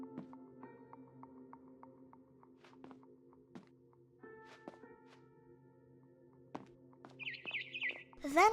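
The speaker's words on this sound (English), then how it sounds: "Then I heard chirping outside my window." Barn swallow chirping in the game What Remains of Edith Finch, a few faint bird calls rising near the end over quiet game ambience with scattered thuds and tonal hums.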